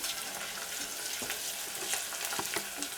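Onions and tomato paste sautéing in a pan for a pea and bulgur dish, giving a steady close sizzle and fry with occasional crackles and light stirring clicks throughout.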